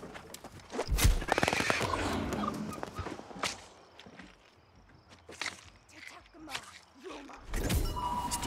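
A turkey gobbling in the video game New World, several rattling gobble calls close by, mixed with footsteps and other game sounds, with no talking over them.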